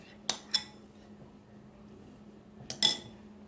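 Two spoons shape stuffed-egg filling for mimosa eggs, making two quiet pairs of metallic clinks separated by a pause, in an otherwise hushed kitchen.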